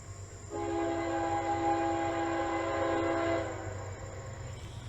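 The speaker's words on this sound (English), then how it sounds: "This next catch is yet again another train meet between the Amtrak 48 and the CSX Manifest." A meet between Amtrak 48 and a CSX manifest freight train: a loud multi-tone train horn sounds for about three seconds over a steady low rumble of rolling cars, then fades while the rumble continues.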